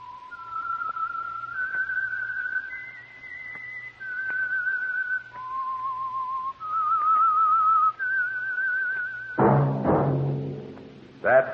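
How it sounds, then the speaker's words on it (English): A lone whistler carries the eerie theme of the 1947 Signal Oil radio program The Whistler, long sustained notes stepping up and down in a slow melody before a deeper orchestral chord swells in near the end. "That whistle is your signal for the Signal Oil Program, The Whistler."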